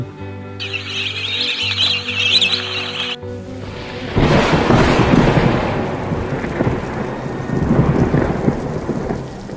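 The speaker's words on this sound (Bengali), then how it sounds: "বলছিলাম না রাতে বৃষ্টি হতে পারে" A tonal chime plays briefly, then heavy rain pours down steadily with deep rumbles of thunder, while birds chirp faintly.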